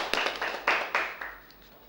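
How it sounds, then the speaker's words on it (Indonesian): Students in an Indonesian civics class give a brief round of clapping for a classmate, a few scattered claps rising and fading over under two seconds, fairly quiet and with no talk. "Tepuk tangan dulu untuk Adik Rizal."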